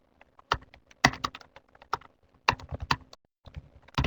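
Short bursts of keystrokes clack on a computer keyboard while text goes into a Word 2010 text box, quick irregular clusters of crisp clicks up close with brief pauses between them.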